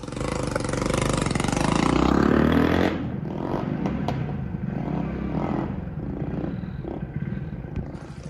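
A motorcycle with a modified silencer roars loudly at first, then settles into a throbbing idle with sharp exhaust pops and crackles, close to the microphone.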